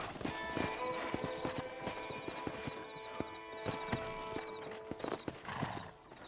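Horse hooves clip-clopping in a steady trot with a whinny in Red Dead Redemption, the rhythmic hoofbeats close and continuous over faint game ambience.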